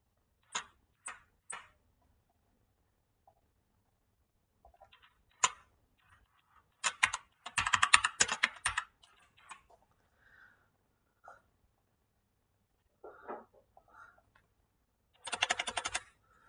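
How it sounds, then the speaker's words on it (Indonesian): Computer keyboard keys tapped in short separate clicks and then in a quick burst of typing, with another flurry near the end, close and fairly quiet against near silence. "Saya mengetik perintah cat u untuk membuat"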